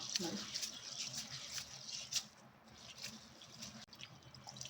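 Rice for idli is swished and rinsed in water, with faint irregular splashes and drips in soft bursts, close by.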